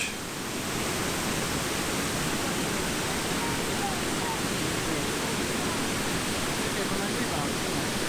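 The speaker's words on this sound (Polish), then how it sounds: "w szumie spadającej z kilku metrów wody zwyczajnie chwilę odpocząć" Waterfall in the Beskid Sądecki mountains, water dropping a few metres, a constant dense rushing roar that stays even and steady throughout, close and loud, with no talk over it.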